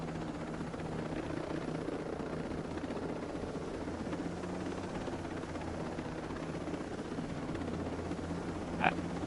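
Helicopter in a video game whirring steadily and loudly throughout, a dense rotor drone with pulsing low thumps, close and constant, with a brief sharp click near the end.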